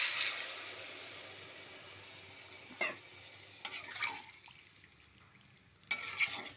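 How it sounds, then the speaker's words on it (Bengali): Hot water poured into a reddened, sautéed jackfruit curry, then stirred: a steady hiss and sizzle at first, then a few scraping strokes of the spoon against the pot. "সেই গরম জলটা দিয়ে দেবো।"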